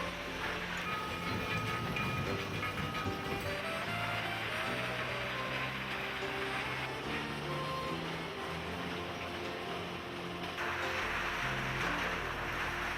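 Railway freight wagons at a stone crushing site, heard as a loud, continuous rumble of rolling stock with heavy machinery noise, steady throughout with no speech.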